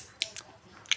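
Someone bites and chews Chhath prasad, with three short, sharp crunches close to the mic in about a second and quiet between them.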